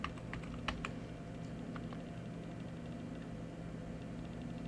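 Computer keyboard keys pressed during 3D modeling software work, a few quick clicks early on then sparse taps over a steady low hum, close and fairly quiet.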